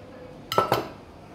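A spoon clinks twice against a steel pot while roasted peanut powder is stirred into ground masala paste, two quick metallic taps close together, otherwise quiet.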